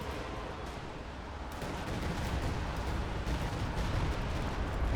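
A Stuka dive bomber strike lands in a war video game, a dense, continuous rumble of explosions and gunfire that swells and stays loud and distant-sounding, with no talking.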